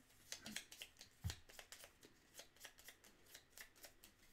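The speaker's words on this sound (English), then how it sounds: "I'm going to shuffle these up." A deck of playing cards is shuffled close by, giving quiet crisp riffles and soft flicks in an irregular run of short bursts, with a couple of duller taps, and no voices.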